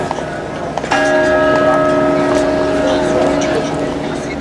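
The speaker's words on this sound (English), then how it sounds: "The bell is original and is signed by Simone Campanato," A bronze bell cast in 1497 on St. Mark's clock tower in Venice strikes once, and its steady ringing tones hang over a busy outdoor square, with some background murmur.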